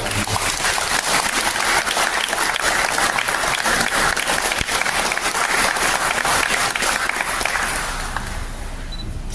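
Loud, dense applause from a congregation at a Korean memorial worship service for General Paik Sun-yup, a continuous close roar of many clapping hands that holds steady and eases slightly near the end.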